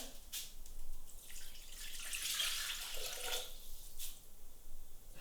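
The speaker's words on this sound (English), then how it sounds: "Next I'm going to add 500 grams of water." Water, 500 grams, is poured into a cooking pot while making an organic potato salad. The pour is a soft, faint splash lasting about two seconds between quieter moments.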